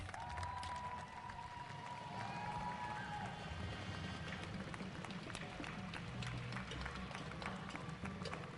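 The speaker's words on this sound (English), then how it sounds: "please give a warm Cavalier round of applause for newest UVa-Wise Athletic Hall of Fame member" Sustained crowd applause with scattered cheers in a sports arena as a new member is inducted into a university athletic hall of fame, dense and continuous throughout.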